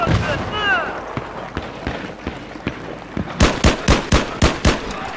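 A voice speaks briefly, then a rapid string of loud, sharp explosion blasts bursts out close by in quick succession in Battlefield 3.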